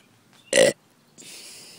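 A single short, loud belch from a person up close, followed by a soft breathy hiss of air.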